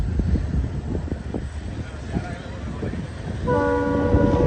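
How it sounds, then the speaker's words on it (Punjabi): A train passing through mountains rumbles by with clattering wheels and a rising mechanical roar, then a loud, sustained horn blows over the noise. "ਪਹਾੜਾਂ ਵਿੱਚ ਦੀ ਰੇਲ ਲੰਘਣੀ ਆ"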